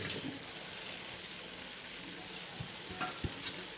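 Paneer fried rice with fried egg and coriander leaves being stirred in a hot pan, giving a steady close sizzle with a few scraping knocks of the spatula near the end.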